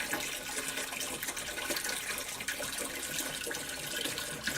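Aquarium water being siphoned out into a bucket during a fish tank water change, a steady, faint, continuous trickling and gushing of flowing water with no talk.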